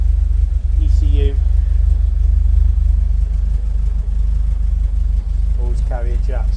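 A 1968 Ford Escort Mk1 with a Pinto engine idles steadily, a low continuous rumble close by, with brief bits of talk over it near the start and end.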